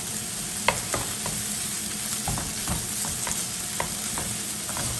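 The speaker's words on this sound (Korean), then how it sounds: "신맛이 나기 때문에 확실하게 볶아주셔야 돼요." A paste is stir-fried in a pan as tortilla filling: a continuous sizzle with repeated sharp scrapes and taps of a utensil against the pan, and no voices.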